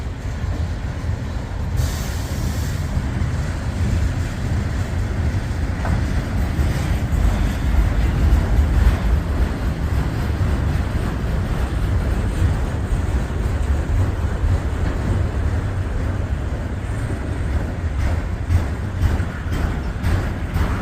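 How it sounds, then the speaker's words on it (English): Freight train of auto rack cars with a tank car mixed in rolls steadily past at close range, a continuous heavy rumble of wheels and wagons with brief brake hiss and clatter along the way. "Switching over to auto rail with a tanker in between, then some more auto rail and some cars in and out in between these auto rails."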